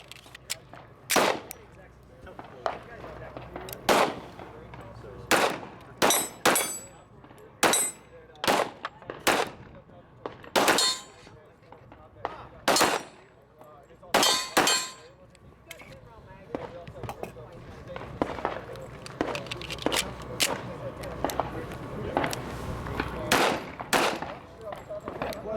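Springfield Armory firearms are fired at a SHOT Show 2016 media day range, with many sharp gunshots in irregular bursts and single reports close by, and people talking in between and under the shots.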